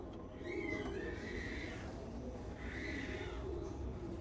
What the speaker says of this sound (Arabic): عايزك تبص كده على الحمام